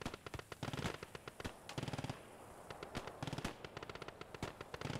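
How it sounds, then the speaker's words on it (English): Machine guns firing in a military shooter game, with rapid bursts of sharp rattling shots repeating in quick rhythmic strings, loud and close with brief gaps between volleys. "MGs are firing back."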